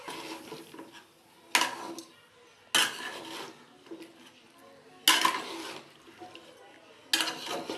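A spoon stirs a full pot of mixed vegetables including beans, potato, cauliflower, tomato and radish, with loud clanking scrapes against the metal pot every second or two and softer rustling of the vegetables in between.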